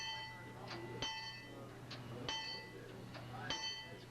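A bell on a small park train ride rings in several sharp, ringing strikes about a second apart, over a steady low hum and outdoor background.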